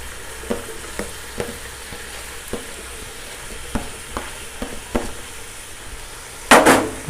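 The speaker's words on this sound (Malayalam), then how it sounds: "ഞാൻ വലിയ ഉള്ളി 4 ചെറുതായിട്ട് അരിഞ്ഞാണ്, അത് തേച്ചും ഞാൻ ആഡ് ചെയ്യുന്നുണ്ട് ഇതിലേക്ക്." Four large onions, finely sliced, fry in a pan for majboos with a soft steady sizzle. A utensil taps and scrapes the pan now and then, ending in a louder scraping rustle near the end.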